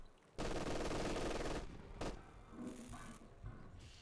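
Machine gun fire in the wartime strategy game Company of Heroes 2: a loud, sustained burst of rapid shots, followed by a sharp shot and further quieter volleys rattling under battlefield noise.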